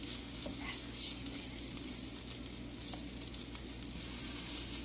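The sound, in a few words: French onion meatballs frying in a pan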